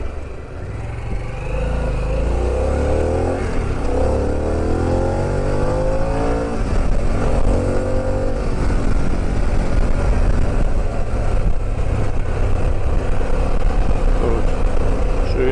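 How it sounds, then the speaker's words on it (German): A Harley-Davidson Pan America motorcycle engine pulls hard under acceleration, its note rising and falling through gears as a loud, steady roar with wind noise, heard from the rider's position. "Der Motor ist gut, der zieht, wenn er muss, hat ein bisschen Vibrationen"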